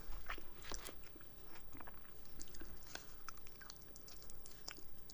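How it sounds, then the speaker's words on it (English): Close, crisp crunching and chewing of a hard shell taco, with repeated bites and jaw movements over a soft steady background. "I love hard shell taco the best"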